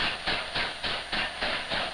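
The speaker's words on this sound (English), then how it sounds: "A freight train arrives with its heavy load." A freight train carrying a heavy load of quarry rocks rolls in, with steady rhythmic pulses of rumbling and hissing repeating about every quarter second, fairly loud and close, with no voices.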